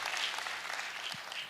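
Audience applause at a Friday night church gathering, a dense wash of clapping that carries steadily through the short moment, fairly faint and at middle distance, with a brief low thump near the end.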